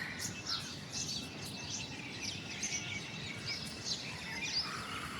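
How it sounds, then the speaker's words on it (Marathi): Sparrows chirp in quick, bright bursts over a low outdoor hum on a cold, foggy morning, several calls scattered across the clip at moderate distance. "चिमण्यांचा आवाज येतोय का"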